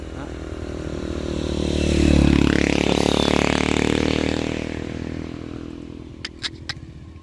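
A motorcycle engine revs up to a loud peak and then slowly fades, with a roaring, rattling tone and a few sharp clicks at the end, as people talk around it.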